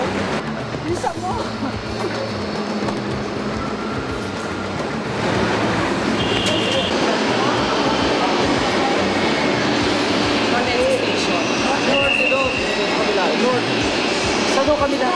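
MRT train at North EDSA Station: a loud, steady rumble of rolling rail cars and machinery fills the whole stretch, growing slightly heavier midway, with crowd noise and voices mixed in.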